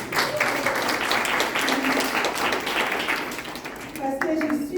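An audience at a conference talk applauds steadily for around four seconds. Near the end the clapping thins and voices and brief cheers come through.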